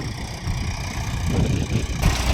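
A tractor engine runs in an organic farm field, a steady low rumbling idle heard nearby with slight uneven knocking and a brief surge near the end.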